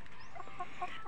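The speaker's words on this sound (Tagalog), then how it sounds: "naglalakad ang aking mga manok" Chickens clucking softly as they walk around a yard, a few short, moderately close clucks spread over a second, with no talking.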